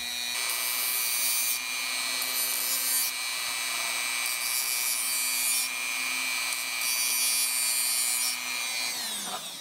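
A rotary tool grinding grooves into the steel shaft of a nitro RC one-way bearing, throwing sparks: a sustained high-pitched whine with shifting grinding tones, close and steady, winding down at the end.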